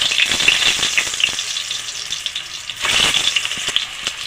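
Boiled small potatoes fry in hot oil for dum aloo. A close, bright sizzle crackles throughout, swelling in two louder bursts with rattling stirs and no speech.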